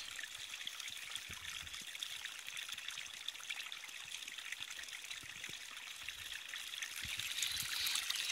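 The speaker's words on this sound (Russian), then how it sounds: "Вот смотрите, ребята, чистейшая вода" Spring water trickles steadily in a soft, continuous hiss with faint splashes, close by and fairly quiet, with no voices.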